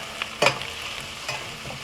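Onions and whole spices sizzle and caramelize in a pan, a soft continuous frying hiss broken by a sharp stirring scrape near the start and lighter taps later.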